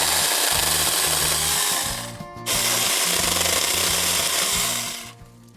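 Small mini chainsaw buzzing through garden branches, a loud close continuous motor drone with a pulsing rhythm, dipping briefly mid-cut before revving again.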